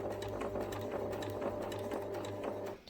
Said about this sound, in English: And then I'm just going to sew really slowly